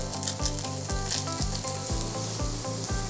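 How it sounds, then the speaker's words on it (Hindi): Vegetables stir-fry in a pan with a spice sachet added, a steady close sizzle broken by rhythmic stirring strokes and scrapes every half second or so. "सिर्फ थोड़े से सॉफ्ट हो वेजिटेबल्स तब तक उनको स्टर फ्राई करना है"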